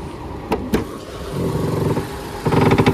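A Lexus GS450h hybrid with its 3.5-litre 2GR-FXE engine runs steadily under the open hood, a close, even hum with a few sharp clicks early on and a slight rise in intensity toward the end.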